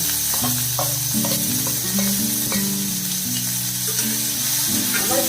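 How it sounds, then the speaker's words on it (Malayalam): Cumin seeds, curry leaves and finely chopped onion fry in a hot pan while a cow peas curry is cooked, giving a steady, loud, close sizzle throughout with a low tonal background underneath and no talking. "ജീരകം കരിഞ്ഞുകൊണ്ട് ചൂടായാൽ എന്നിട്ട് ഒരു സവാള ചെറുതായിട്ട് കട്ട് ചെയ്യുക"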